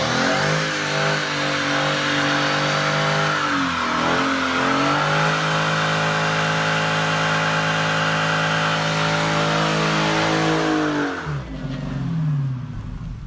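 A car doing a line-lock burnout with a zAutomotive TaZer, its engine held at a loud, steady high rev with rising harmonics for about eleven seconds, then dropping off abruptly to a low idle.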